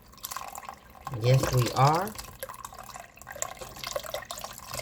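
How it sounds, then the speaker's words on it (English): A whole quart carton of chicken broth pours into a pot of Gullah chicken stew, a soft, steady liquid splashing that runs throughout beneath a short spoken phrase. "we're going in with that chicken broth"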